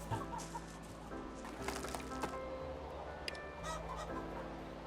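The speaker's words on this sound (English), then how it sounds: "Chick, chicken lay a little egg for me." Chicken clucking in the video game Broken Roads, a few short clucks set faintly within game ambience and music in a town.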